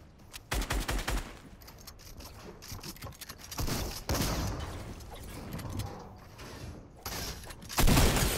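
Pistol gunfire in the video game Fortnite, a string of loud sharp shots and bursts mixed with clicking weapon mechanisms, in several separate volleys.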